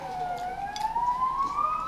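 An ambulance siren passes outside an open apartment window, a fairly loud rising wail heard continuously over faint room background with no talking.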